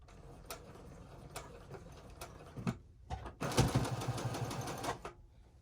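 A sewing machine back-stitching fabric for a face mask runs in short bursts and then a longer, louder run, with quick mechanical ticking between stitches. The machine is close and fairly quiet, and there is no speech.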